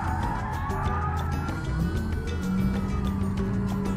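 Police sirens in the BeamNG driving game wail faintly in the background over a continuous car engine drone and road noise, with no talk.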